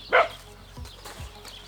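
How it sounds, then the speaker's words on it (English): A dog gives one sharp, loud bark indoors, followed by a couple of softer, lower yips or thumps. "my dog is barking mad"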